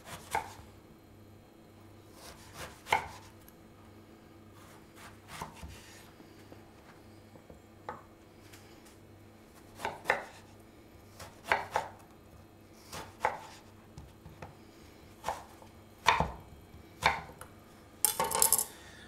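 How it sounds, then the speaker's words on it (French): Knife chopping peeled aubergine into fry-shaped sticks on a board: sharp, irregular cuts that come in quick clusters, growing denser toward the end, close and fairly quiet with no talking. "Mon aubergine est épluchée, je vais la tailler, très simple, comme si c'était des frites."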